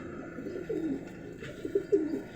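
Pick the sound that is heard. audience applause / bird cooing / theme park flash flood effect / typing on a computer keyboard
bird cooing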